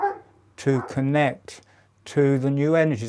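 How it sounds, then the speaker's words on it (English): A dog barks in the background during a breathwork session, with short yips and barks partly buried under a person's steady, close speech. "You may hear him barking in the background."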